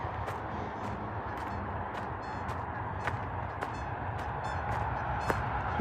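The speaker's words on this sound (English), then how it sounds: "That's a bird." A bird calls near a river with repeated honking cries at an irregular rhythm, moderately distant and not very loud, over a steady background of outdoor noise.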